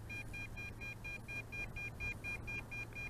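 Helifar B3 brushless GPS quadcopter beeping on a long-distance flight, a rapid regular train of short high electronic beeps, about five per second, faint over a low steady hum.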